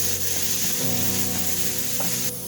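Spanish paprika and grated carrot sizzling in a hot pan while being stirred, a loud continuous close frying hiss with light scraping, no talking.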